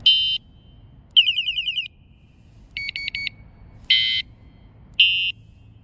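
PIDZOOM FH30 finger horn cycling through ringtones, giving five short electronic bursts of beeps, warbles and trills separated by silence, close and clear.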